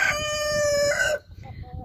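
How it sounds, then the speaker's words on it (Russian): A rooster's drawn-out crow rings out close by in a village chicken yard, ending abruptly, with faint clucking and farmyard murmur after it. "Сюда курочки заходят."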